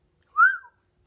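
A person whistles once during an audiobook reading, a short clear rising-and-falling tone lasting about a third of a second, alone in otherwise near silence.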